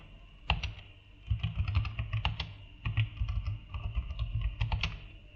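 Typing on a computer keyboard, with close, quick bursts of key clicks in irregular runs and brief pauses between them, alone with no talk.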